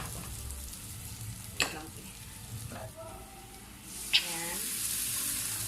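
Oil in a frying pan sizzles and crackles as a little water is added while cooking Thai pad prik with fried fish, with a few sharp bursts and a louder hiss rising near the end; a voice speaks briefly.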